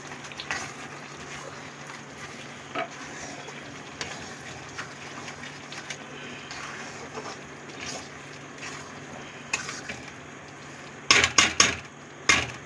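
Okra cooking in a pan with a mustard, poppy seed and cashew paste gives a steady soft hiss while being stirred. A quick burst of spoon-on-pan clatter comes near the end.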